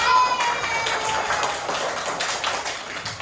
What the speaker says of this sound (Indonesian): tepuk tangan dong buat Mas Danu.